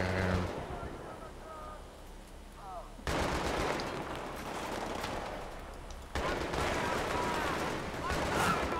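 Distant, muffled gunfire and sniper shots from a Battlefield 3 multiplayer co-op battle on Operation Exodus, heard as a dense rumbling wash of firing that cuts in and out in abrupt sections.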